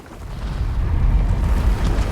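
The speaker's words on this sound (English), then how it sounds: "Those explosions exposed some more bloodstones." Explosions in the video game Guild Wars 2, a steady loud low rumble with crackling debris that persists through the whole stretch, no voices over it.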